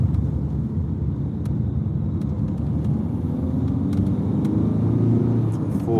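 A small car carrying four adults drives past on a road, producing a continuous low engine and road rumble that swells slightly toward the end, with no talk.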